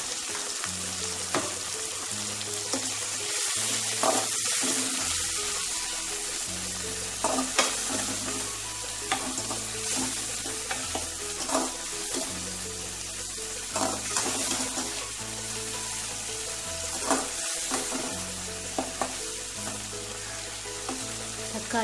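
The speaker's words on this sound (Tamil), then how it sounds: "தக்காளி சீக்கிரமாக வதங்கிறதுக்காக நம்ம உப்பை இப்போவே சேர்த்துக்கணும்" Tomatoes with salt sautéing in a pan for a yam kuzhambu, a steady broadband sizzle with repeated scraping stirs and occasional utensil knocks throughout, close and continuous with no voices.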